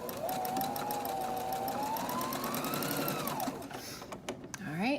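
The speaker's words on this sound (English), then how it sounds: "as I come to the end, take out the pin and then back stitch at the end here too" Sewing machine back stitching at the end of a seam on a bandanna: steady close motor whir with rapid needle ticking throughout, ending in a brief rising whine.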